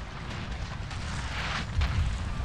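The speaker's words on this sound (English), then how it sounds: "My cannon still firing at something that's too far away" Cannon fire in Napoleon: Total War, during an Egypt campaign battle, comes as a steady rumbling roar of distant booms, swelling slightly toward the end.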